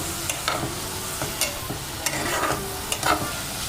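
Finely chopped vegetables for pasta sizzle and fry in a pan, with steady frying hiss and several brief stirring scrapes and clicks throughout, fairly close and moderately loud.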